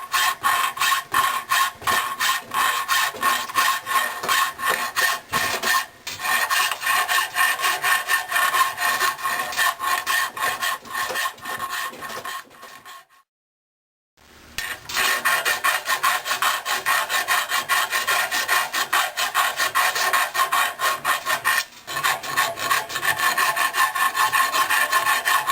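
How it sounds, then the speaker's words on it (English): A coarse file working cast iron in long, steady rasping strokes, loud and close, running continuously apart from one brief pause partway through, with no voices. "Cast iron with a good coarse file, you can remove some metal."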